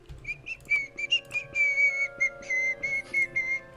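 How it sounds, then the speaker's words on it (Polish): A man whistles a melody alone in a quiet room, a clear sustained tune with short pauses between phrases. "Nie powinienem gwizdać."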